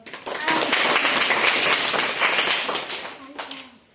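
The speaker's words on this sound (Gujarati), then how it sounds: "તાળીઓ પાડો એકવાર." Schoolchildren in a classroom burst into a loud round of clapping that keeps going for about three seconds and then fades. A voice speaks briefly near the end.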